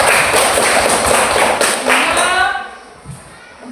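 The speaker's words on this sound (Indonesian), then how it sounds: "Tepuk tangan untuk Febri." A classroom group gives a short round of hand clapping for a pupil, dense and busy for about two and a half seconds before fading out, with a teacher's voice and children's chatter underneath.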